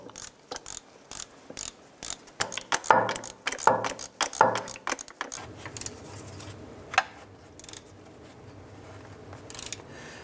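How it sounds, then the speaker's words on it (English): A ratchet tightens three bracket bolts while replacing the 4WD indicator switch on a 2002-2007 Jeep Liberty, with close bursts of sharp clicking pawl strokes, some pauses and softer mechanical rattles as the work continues. "Now I'm gonna go ahead and tighten up these three bolts for that bracket."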